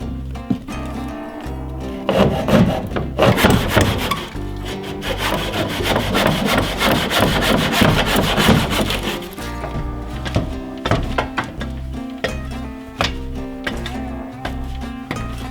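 Wooden board ends poking out from the back of a 12x12 tiny cabin being cut off with a handsaw: rapid rasping strokes of steady rhythm, loud and close, with a brief pause partway and no talk.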